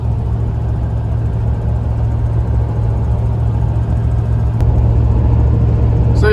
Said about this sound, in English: They're driving 80 miles an hour down the highway.